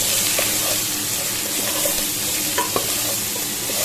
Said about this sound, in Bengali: দেখো এটা ভাজা ভাজা প্রায় হয়ে আসছে